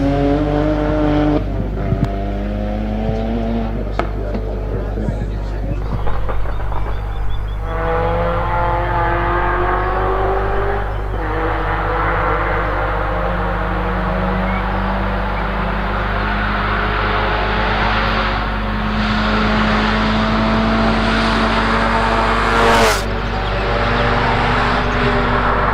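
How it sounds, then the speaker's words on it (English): A BMW race car at a hillclimb runs toward the finish line, its engine droning loud and steady with rising and falling revs through gear changes, close by and continuous with no talk. "Making his way to the finish line in the BMW."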